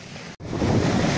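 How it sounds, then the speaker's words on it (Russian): Sea waves washing onto a winter shoreline, a continuous rumbling surf with wind buffeting the microphone, broken by a brief dropout before the roar swells back louder. "Минута релакса с голосом моря."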